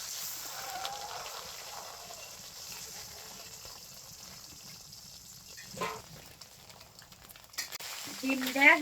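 An egg fries in hot oil with a faint steady sizzle, with soft stirring or clinking and brief voices near the end.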